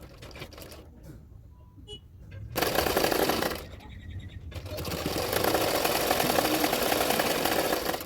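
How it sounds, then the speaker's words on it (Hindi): A sewing machine stitches a belt onto a double katori blouse in two bursts of rapid whirring, the second longer and steady, with someone talking quietly between and around them. "तो मैंने एक सिलाई डाल दिया"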